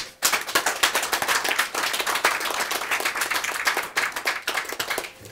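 Audience applause at a book launch celebrating the publication of a book, dense steady clapping from a crowd that starts abruptly and holds at full strength for several seconds.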